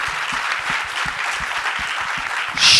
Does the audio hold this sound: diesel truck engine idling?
no